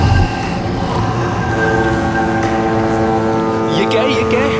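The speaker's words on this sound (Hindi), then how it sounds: "ये आवाज कहाँ से आ रही है? शायद कोई जहाज होगा।" Ship in a Hindi crime drama, a loud, sustained low droning horn-like tone with steady harmonics that stays constant for several seconds, with voices and background sounds over it.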